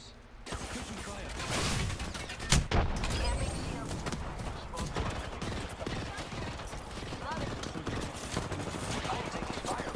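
Video game gunfire in a team firefight, with repeated shots and a sharp loud crack near the start, sounding under nearly continuous talk and mechanical clatter.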